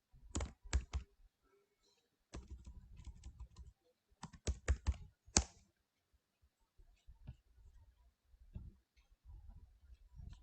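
A DROP DATABASE command typed on a computer keyboard: quiet, close clusters of key clicks in short bursts separated by silent gaps, with a few isolated taps toward the end.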